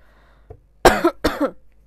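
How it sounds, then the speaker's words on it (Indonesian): Two sharp, close coughs in quick succession, preceded by a small throat sound, with quiet before and after. "Maaf kalau aku batuk-batuk ya."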